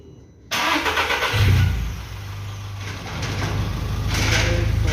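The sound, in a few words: VW Polo Vivo GT engine starting after oil change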